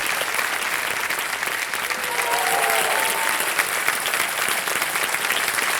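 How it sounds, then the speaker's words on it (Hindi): Loud, steady applause from a large studio audience on the KBC quiz show floor, dense and continuous for several seconds. "जोरदार तालियां बज जाए इनके लिए।"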